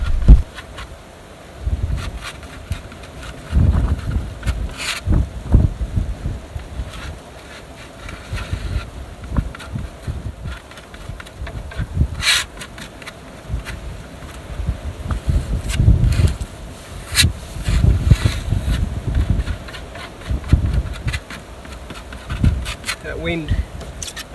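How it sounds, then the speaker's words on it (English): Gusty coastal wind at the beach buffets the microphone in uneven rumbling bursts that rise and fall over a steady low background. "That wind is coming up again as usual."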